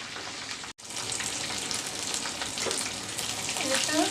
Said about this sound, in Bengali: চিকেন ফ্রাইগুলো ভাজা হয়ে গেছে